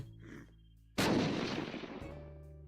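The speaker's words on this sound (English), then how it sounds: "fireworks! Wasn't that neat?" Fireworks in a video game burst with one sudden loud crack that rolls into a crackling, fading rumble, and steady game tones play before and after.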